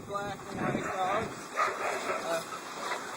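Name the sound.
Alaskan Husky sled dogs barking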